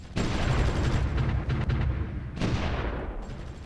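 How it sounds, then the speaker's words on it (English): Artillery bombards an enemy garrison in Supreme Ruler Ultimate: a dense roll of booming, crackling fire at close range, with a brief lull and then another sharp burst of shots. "I was wondering what that firing sound was."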